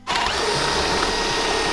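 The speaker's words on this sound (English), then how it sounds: "Now I need to drill this hole" A power drill bores a hole in a 1983 Toyota Trekker, its motor grinding at a steady, loud whine near the microphone for the whole span with no pauses.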